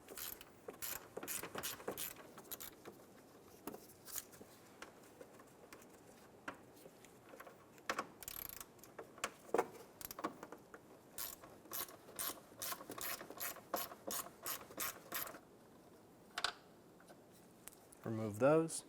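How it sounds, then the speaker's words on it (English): Ratchet with a 10 mm socket undoing two fan assembly bolts during water pump replacement on a 2003-2007 Infiniti G35, giving bursts of close, rapid clicking with short pauses and quiet handling noise between. "Using a 10 millimeter socket, we're going to undo the 2 bolts for the fan assembly."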